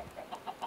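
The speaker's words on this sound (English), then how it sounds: "Chickens, of course." Chicken clucking in the video game Minecraft: several short, soft clucks repeating at a steady rhythm, quiet and alone.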